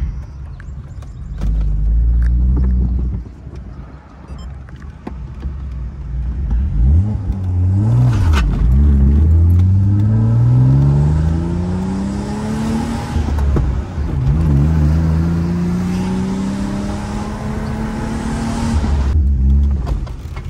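BMW E36 car engine revving up and settling back through several rising and falling sweeps, loud and close, with a deep idle rumble in between and no talking.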